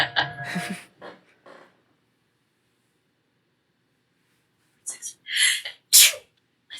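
Someone nearby sneezes sharply and loudly, followed by a pause of silence and then a few short breathy bursts, with speech around it.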